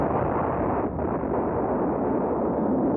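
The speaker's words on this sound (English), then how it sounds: "That sounds like an explosion." An explosion in the visual novel game Robotics;Notes DaSH, where a ferry at a port blows up into a huge fireball, heard as a sustained loud, muffled roaring rumble lasting several seconds without talk.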